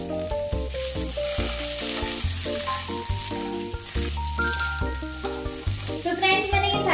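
Potatoes and green chilli for a fasting-day aloo dish are stirred as they fry in a pan, a steady close sizzle with stirring scrapes beneath background music.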